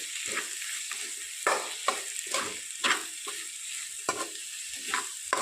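Fenugreek leaves and broad beans frying in a pan, spiced with coriander powder, sizzling softly with a spoon scraping and stirring in repeated short strokes, close and alone.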